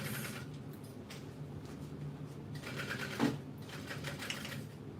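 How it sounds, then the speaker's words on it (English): A sewing machine runs in steady bursts while back stitching over the side pockets of a backpack, a close, continuous mechanical whir with a sharp click partway through. "Back stitching over those side pockets."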